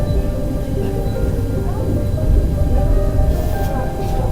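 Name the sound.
high-speed train running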